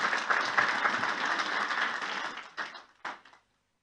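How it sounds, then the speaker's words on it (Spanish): A church congregation at a Sunday service applauds a choir with a burst of steady clapping that thins to a few scattered claps, then stops into silence. "Demos un fuerte aplauso a coro Nueva Alegría"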